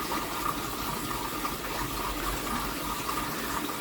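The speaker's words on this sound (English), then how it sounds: "Now that pipe over there, look, where the water's coming out." Steady rushing water gushes continuously out of a pipe, a constant broad hiss with no pauses, moderately close.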